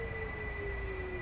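A Caltrain commuter train in the Train Sim World video game brakes toward a stop, a steady high squeal of wheels over a continuous low rolling rumble, with no talk.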